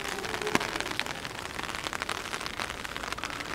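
Warm rain falling steadily in Tokyo, a dense, even patter of drops close by, with a few sharper taps standing out and no voices.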